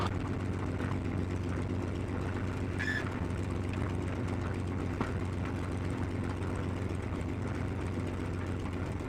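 A P-51 Mustang taxiing on an airfield, its piston propeller engine giving a steady, loud, close drone that rumbles without a break.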